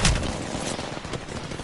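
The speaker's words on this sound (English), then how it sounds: "Shots on me!" Gunfire in the video game Apex Legends, a burst of loud rapid shots at the start followed by continued crackling fire over a few seconds.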